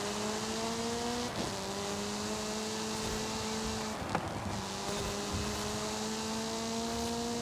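Van engine in a racing video game drones steadily with a buzzing, nasal tone, holding a fairly even pitch with a couple of brief gear-change dips, moderately quiet under a wash of broadband road and crowd noise.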